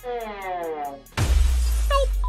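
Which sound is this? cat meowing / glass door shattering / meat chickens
glass door shattering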